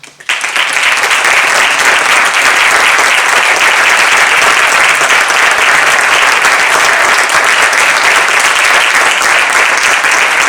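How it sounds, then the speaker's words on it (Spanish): Sustained, loud audience applause for the members of the music band, dense clapping filling the room steadily from start to finish after a brief quiet opening. "mi aplauso para todos los componentes de la banda"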